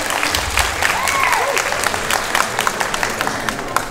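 An audience at a Chinese rookie singing contest final in Christchurch, New Zealand, claps for the head judge. Crisp, many-handed applause rolls steadily with distinct slaps standing out, plus a brief whistle-like tone and light crowd murmur.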